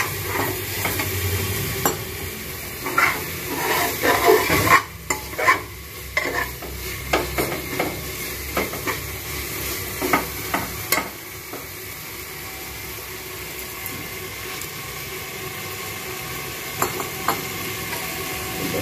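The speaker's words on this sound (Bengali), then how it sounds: "মশলাটা ভাজা হয়ে গেলেই হয়ে যাবে" Spice paste for mutton curry sizzles steadily in a pan with a splash of water, under repeated scraping strokes of a spoon against the metal, close and continuous with no talking.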